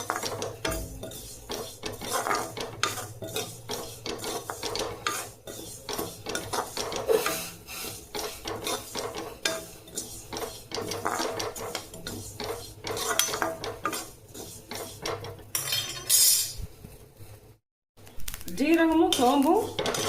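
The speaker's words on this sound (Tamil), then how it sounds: "ஜீரகமும் சோம்பும் வறுபட்டுருச்சு. அதுலேருந்து சட சட சடன்னு சவுண்டு வருது பாருங்கள்." Cumin and fennel seeds dry roasting in a pan for a kuzhambu masala powder, a busy stream of small crackles and scraping stirs, close and moderate in level, with a voice talking over it.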